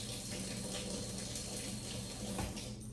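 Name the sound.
tap water rinsing off a whisk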